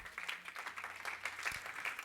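A church congregation claps hands for the Lord, a faint, lively patter of many hands keeping a loose rhythm, with a voice murmuring beneath.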